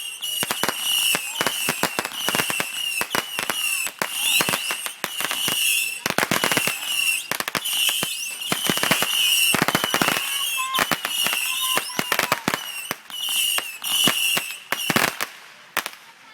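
Fireworks go off outdoors in a rapid string of loud cracking bangs and sharp pops, with crackling bursts layered over one another throughout.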